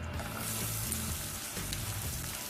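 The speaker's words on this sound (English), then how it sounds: "we're gonna go in with our onions" Onions hitting hot oil with cumin seeds, a steady close crackling sizzle over a low background hum, with no one speaking.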